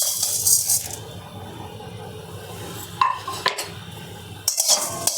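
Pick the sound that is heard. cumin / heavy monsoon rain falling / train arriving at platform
cumin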